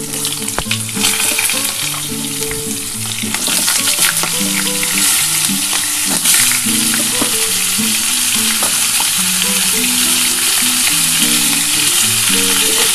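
Pointed gourd (potol) pieces seasoned with salt and turmeric fry in oil in a wok, a loud constant sizzle with occasional stirring scrapes, close by and free of talk, while steady background music plays underneath.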